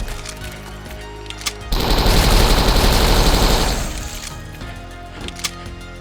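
Gunfire in the video game Dead Trash: a loud, sustained burst of rapid automatic fire lasting about two seconds, with a few isolated single shots before and after.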